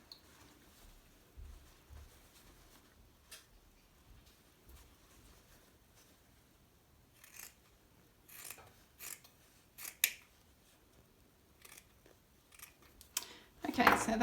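Scissors snip through fabric binding strips in a few scattered cuts, light and close, with quiet gaps between them and a sharper rasping burst near the end; no one speaks.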